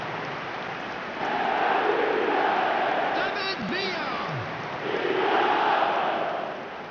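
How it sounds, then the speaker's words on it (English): A large stadium crowd roars after a Manchester United goal, a loud sustained swell of cheering that rises, dips slightly and surges again, with a voice briefly audible over it. "the crowd level has gone up a notch or 10"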